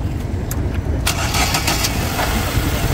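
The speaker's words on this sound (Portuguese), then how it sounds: "Pedi para que o amigo desse partida para vocês nos acompanhar e escutar" A used Chevrolet Corsa at an outdoor used-car fair cranks and catches after about a second, then settles into a smooth, even idle close by.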